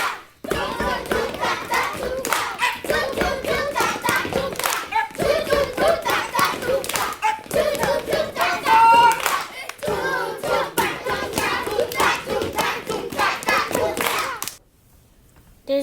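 Gumboot dancers clap hands and slap their boots in fast, interlocking rhythmic patterns, loud and close with sharp percussive hits, continuing for most of the stretch before stopping abruptly near the end.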